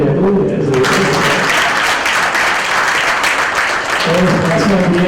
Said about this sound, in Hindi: सर तालियां तो बजा दो।